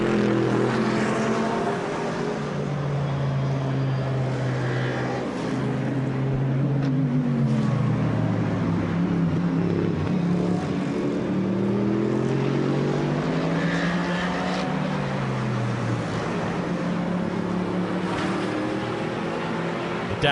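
Race car engine at the Spa 24 Hours endurance race, rising and falling pitch as the car brakes and sweeps through a right-left-right sequence of corners, loud and continuous, with several gear changes and no voices.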